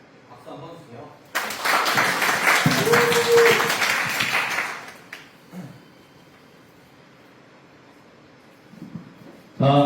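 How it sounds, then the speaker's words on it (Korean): A burst of audience applause at a Korean insurance sales lecture, lasting a few seconds, loud and steady, then fading out, with a voice speaking before and after. "박수 한번 주세요."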